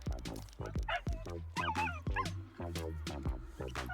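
Dog whimpers, yips and barks in the video game Green Eyes, a rapid run of close, high-pitched yelps and whines packed tightly together for several seconds, loud and alone with no talk.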